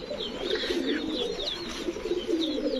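A big silver male racing pigeon coos close by in repeated soft, throaty rolling calls over a few seconds.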